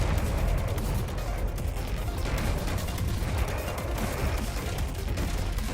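Spaceship weapons fire and explosions rage in a space video game, a dense, loud barrage of rapid projectile shots and blasts layered into a continuous roar without pause.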